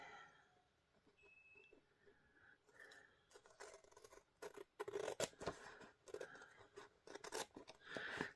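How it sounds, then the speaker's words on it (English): Repeated crisp snips of scissors cutting down the side of a paper envelope, close by and fairly quiet, coming in irregular bursts with brief pauses between cuts. "And then you get your scissors and just gently cut down the side."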